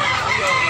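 A rooster crows close and loud at a chicken market, a single sustained call filling the short moment.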